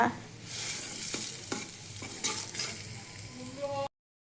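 Pointed gourd peel paste is stirred in hot mustard oil in a wok, giving a soft continuous sizzle with repeated spatula scrapes before cutting off abruptly into silence.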